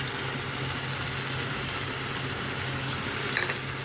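An egg fries in a pan next to boiled potatoes and garlic, giving a steady close sizzle that continues without pause.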